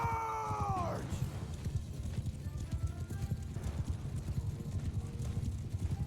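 Horses gallop in a medieval battle video game, with dense rapid hoofbeats under a brief whinny at the start. The clatter sounds loud and close, carried over a busy rumble of battle noise.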